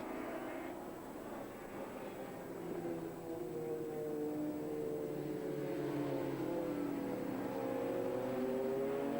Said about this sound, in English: Poland the first rider away on the Suzuki GSX-R 750.